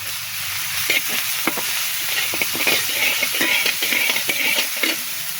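Chopped onion, garlic and chili sizzle steadily in hot oil, a continuous crackling fry with intermittent stirring scrapes and clicks throughout, close and fairly loud, no voices.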